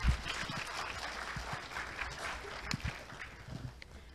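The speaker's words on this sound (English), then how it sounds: "with a round of applause." Audience applause fills a hall at a Korea University international winter campus orientation, a steady dense wash of many hands clapping at moderate distance, with a few louder claps standing out.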